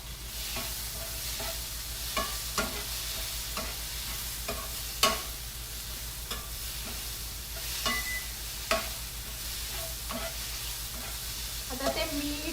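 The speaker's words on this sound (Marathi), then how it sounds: "असे छान कांद्याबरोबर परतवून घ्या" Onion and tomato sautéing in a pan with a constant sizzle and frequent spatula scrapes and clicks at an uneven rhythm, close and continuous, with no voice over it.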